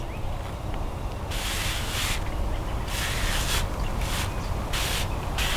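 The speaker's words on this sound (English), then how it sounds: "I'm just going to spray the underside of the leaves" Steady hissing spray from a pump sprayer on the undersides of leaves comes in bursts, several pulses of a few seconds each with short pauses between, close by over a constant background hiss.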